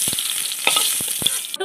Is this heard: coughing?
no